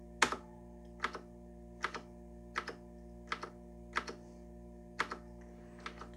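Keys pressed on an Apple IIGS computer keyboard to search a game list, about eight distinct clicks at a steady, unhurried pace over a low constant electrical hum, no voices.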